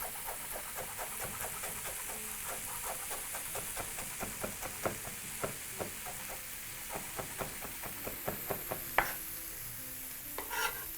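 Broccoli stir-fried in a soy coating, a constant close sizzle broken by regular scrapes and taps of a utensil against the pan, a few sharper knocks near the end, no talking.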